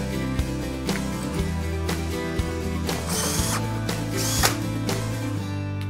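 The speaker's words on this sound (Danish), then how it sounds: "Nu sætter jeg topbeslaget på, og jeg sørger for at skrue dem i midten" Top brackets being screwed onto a garage door, with close mechanical ratcheting clicks from a tool in rapid repeated bursts, loud and steady over several seconds.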